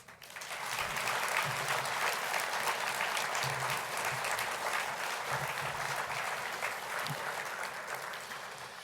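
A conference audience applauds the sponsors at an opening plenary session, with clapping swelling quickly and holding as a full, even roar of many hands before easing slightly near the end.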